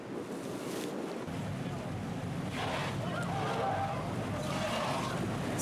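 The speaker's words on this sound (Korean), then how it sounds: "센 파도로 심하게 흔들리는 배에서 내린 후" A boat rocks on rough Mediterranean waves off the Provence coast: continuous wash of surf and water against the hull mixed with heavy wind buffeting the microphone, steady and fairly loud with no clear speech.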